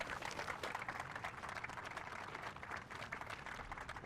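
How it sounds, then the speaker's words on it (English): Applause from a crowd at an outdoor groundbreaking ceremony for a family justice center and police headquarters, dense steady clapping at moderate distance lasting the whole stretch, no talk over it. "Let's give Mayor Megan Berry a round of applause."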